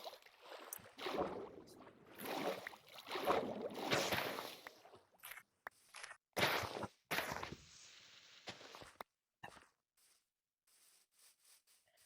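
In Minecraft, water sloshing and splashing in bursts as a boat moves along, with uneven surges and brief quiet gaps, fairly close.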